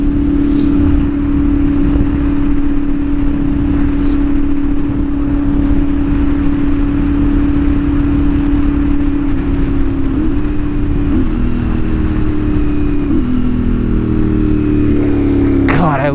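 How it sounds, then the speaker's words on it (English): A CFMOTO 450SS motorcycle fitted with a new exhaust drones steadily at close range, then steps down through several gears near the end, each downshift bringing a quick rise in engine pitch as the revs blip. "I love downshifting so much. It's so good to downshift this."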